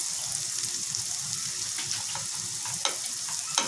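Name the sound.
onions frying in a pan for spicy scallops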